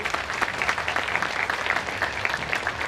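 Audience clapping for the guests seated on stage at an anniversary function, a continuous close spatter of many hands lasting under three seconds with no voices over it.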